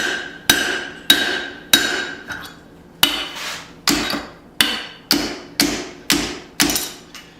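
Hot steel flat bar is hammered on an anvil to widen a punched hole toward a 3/8 inch size while forging tongs: about eleven sharp, ringing blows land at a steady, even pace, close and loud, with no talk.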